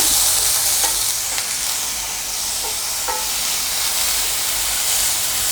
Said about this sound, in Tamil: இப்போது குடமிளகாய் இதையும் நம்ம ஆட் பண்ணிவிட்டு வதக்கிக்கலாம்.